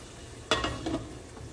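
Meatless efo riro stew cooking down in a pot, a faint low simmer broken by a couple of brief scraping stirs near the middle, with no voices.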